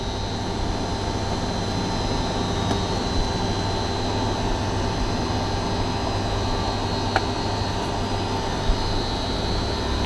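A pump motor driven by a variable frequency drive runs in a central plant mechanical room, giving a steady, broadband whir with a constant low hum and faint tonal whine, loud and unbroken throughout.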